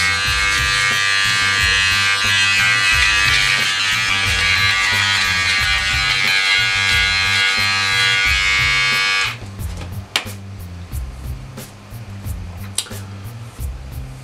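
A Panasonic GD50 electric beard trimmer buzzes loudly and steadily for about nine seconds, then switches off, leaving quieter scattered clicks and handling noise.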